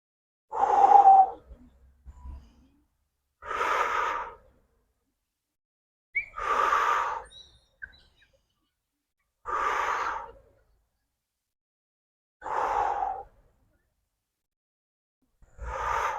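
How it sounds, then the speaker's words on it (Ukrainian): Six separate breaths during a morning full-body exercise routine, each a close, airy gasp-like inhale or exhale lasting about a second and spaced a few seconds apart, with silence between. "На видоху вирівнюємось. Вдих, видих."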